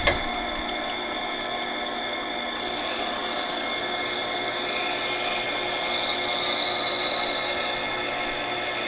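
A knife blade is ground against the outer part of a grinding wheel while being sharpened, giving a steady, close-up scraping and whirring rasp that builds slightly and runs continuously without any voices.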